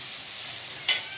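Hot vanjaram fish fry sizzles with a soft, continuous hiss, ending in a short louder burst of crackle, with no voices.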